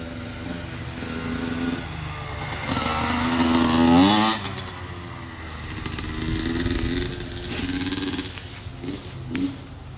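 An 85cc two-stroke dirt bike engine revs up and down nearby, a buzzy whining note that rises and falls in bursts over about ten seconds.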